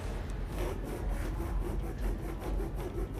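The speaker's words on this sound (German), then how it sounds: "Damit fange ich durch Hin- und Herbewegen an zu sägen." A fabric strip is drawn back and forth in a sawing motion, making a steady rhythmic rasping and rubbing with regular strokes about every third of a second, close and continuous.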